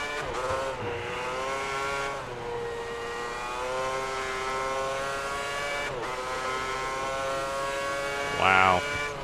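Race car engines from the F1 2010 video game during the Spain race, a continuous high revving whine with rising and falling pitch sweeps as gears shift, heard alongside game audio.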